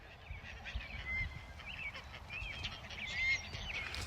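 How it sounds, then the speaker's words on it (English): Faint, distant honking of Canada geese drifts over a low, rumbling background on a farm pasture, with a few scattered calls. "it's good habitat for geese when there's Canadian geese right there."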